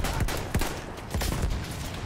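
Armored train guns firing in the Battlefield 1 video game: dense, loud booming gunfire with several heavy blasts in quick succession over a constant rumbling battle din.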